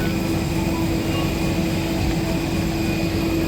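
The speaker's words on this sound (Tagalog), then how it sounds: "Landing na. Airport ng Osamis." An airplane lands at Ozamiz airport, heard from inside as a steady, loud cabin drone with a constant engine tone and no talking.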